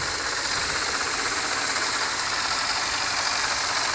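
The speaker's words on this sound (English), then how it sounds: "It's pretty much a General Motors engine, a 4-cylinder 150 brake horsepower motor, but sounding really nice with a timing chain" Saab 9-3 Vector 1.8T four-cylinder engine with a timing chain idling steadily up close, a continuous even hum and hiss with no voices.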